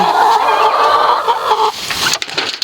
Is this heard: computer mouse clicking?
no